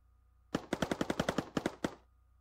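Units in the video game Mindustry fire at the player in a rapid burst of about eleven sharp, clipped shots, close and distinct over a quiet background.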